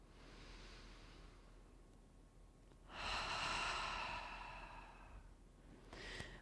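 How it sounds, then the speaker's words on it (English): Slow, deep meditation breathing: a soft inhale, a pause, then a long, audible sighing exhale that fades out, followed by the start of another breath, quiet and close with no talking. "Take a deep breath in and with a sigh, release it."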